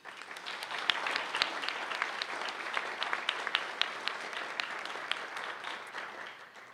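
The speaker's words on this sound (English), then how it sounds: "Please join me in a warm round of applause for all of them." A seated forum audience at a City Club event applauds its sponsors, a fairly quiet, even patter of many hands clapping steadily without a break.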